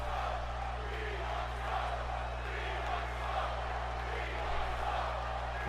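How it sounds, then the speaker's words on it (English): A WWE SmackDown wrestling arena crowd produces a steady, distant roar over a low electrical hum, with a commentator talking over it. "And now the crowd firmly behind Montez Ford here to begin this matchup."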